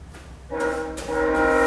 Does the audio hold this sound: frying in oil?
no